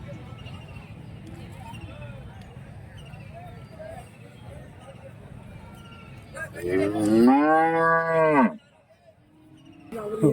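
A cow gives one long, loud moo near the end at a cattle market in Karimangalam, Dharmapuri, following a stretch of low crowd murmur and background chatter.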